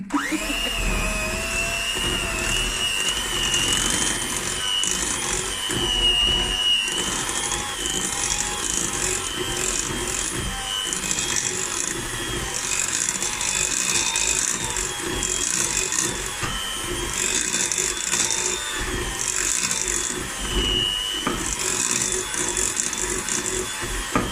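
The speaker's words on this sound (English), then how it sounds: "Now I'm going to mix my cream cheese with my frosting." Electric hand mixer beating cream cheese into frosting for a carrot cake, a steady loud motor whir with a bright high whine that runs continuously for the whole stretch, no talking over it.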